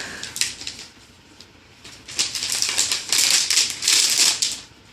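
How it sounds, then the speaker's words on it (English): Papery scraping and crinkling as the pull tab is drawn back on the box packaging of a 2013 Apple 13-inch MacBook Air, close and fairly quiet, with a few sharper bursts of rustle toward the end. "So, simple pull on the tab, pulls that back."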